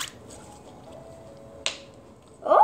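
Soft wet clicks and small squishy pops from store-bought slime being poked and popped, a couple of sharp snaps spaced apart, then a gooey squelch at the end, close and quiet.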